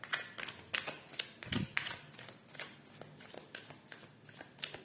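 Tarot cards are shuffled by hand in a quick, close sequence of soft riffling taps and flicks repeating at an even rhythm, with no talking over them.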